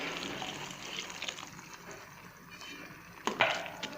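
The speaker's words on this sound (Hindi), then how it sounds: "अब मैं इसमें आधा गिलास पानी का शामिल कर रही हूँ।" Half a glass of water is poured into dhaba-style matar keema as it cooks in a pot. A short, close splash comes near the end over steady kitchen background noise.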